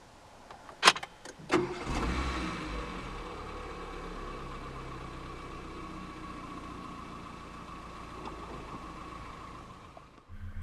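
A 2015 Renault Clio 1.2 16v 75 Dynamique is push-button started, with a couple of clicks, a brief crank and catch, then a steady, quiet idle running close by.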